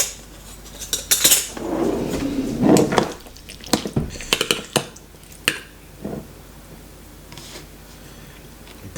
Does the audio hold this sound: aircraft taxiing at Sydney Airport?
no